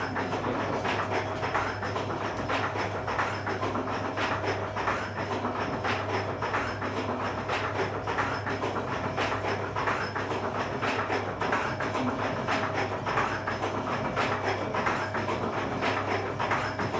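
The turning wooden machinery of a windmill gives a continuous rhythmic clattering and rumbling, with faint repeated squeaks beneath, steady throughout and with no talk.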